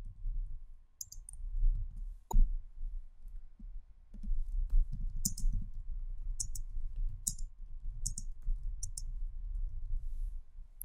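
Mouse clicks on a computer, a series of light, sharp clicks spread out over steady low background hum, fairly close and quiet.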